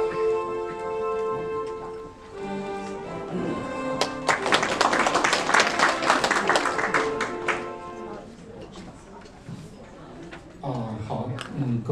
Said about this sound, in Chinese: 大家应该掌声欢迎。